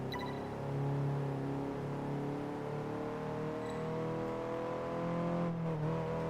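Ferrari engine droning steadily in Test Drive Unlimited 2, a sustained, fairly loud hum with slight pitch shifts as the car drives on, alone without any talk.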